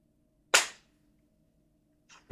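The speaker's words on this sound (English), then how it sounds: "Gun was going crazy." Two sharp gunshots from a Five Nights at Freddy's fan game: one crisp, loud crack followed by a brief decay, then a second, quieter shot about a second and a half later, over a faint low hum.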